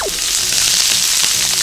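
Salted vegetables in plenty of olive oil sizzle loudly and steadily on a hot plate set to its highest 250-degree heat, a dense close-up frying hiss with light stirring and no talk.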